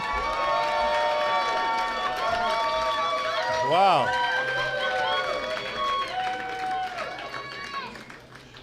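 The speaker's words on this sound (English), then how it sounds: "Look at that cheering section" Crowd cheering and whooping at an awards luncheon and hall of fame ceremony, loud and sustained throughout, with a voice exclaiming over it.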